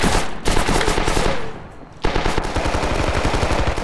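Enemy machine gun fire in the Rising Storm video game: loud, rapid bursts of automatic shots, one sustained burst, a short lull, then another long rattling burst, close and dominant.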